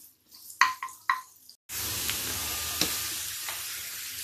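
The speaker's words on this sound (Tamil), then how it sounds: "இந்த ஸ்டேஜில் நாம் சீரகத்தை ஆட் பண்ணிக்கலாம். கொஞ்சோண்டு நல்லா ப்ரௌனிஷ் ஆகிற வரைக்கும் வதக்கிக்கோங்க." Cumin seeds hit hot oil for a drumstick leaves sambar, with a few sharp clicks and taps, a brief silence, then a sudden steady loud sizzle with faint crackles, and no talk.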